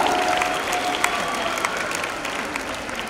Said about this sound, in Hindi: तालियों की गूंज में। बच्चों जोरदार।